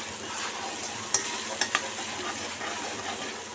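Fish curry masala with turmeric fries in oil, a close, steady sizzle punctuated by a few sharp spatula clicks against the pan, with no talking.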